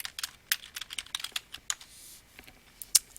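Computer keyboard typing a search query, a quick uneven run of light, close key clicks with brief pauses, soft and alone in a quiet room.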